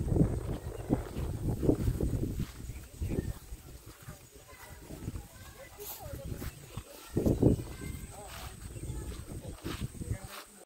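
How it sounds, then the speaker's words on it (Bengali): Wind blows across an open hilltop near a temple at Garhpanchakot in Purulia, buffeting the microphone in rough, rumbling gusts that swell and fade. "আর হাওয়া দিচ্ছে তো বেশ ভালো লাগছে।"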